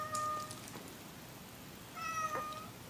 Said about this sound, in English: The giant cat.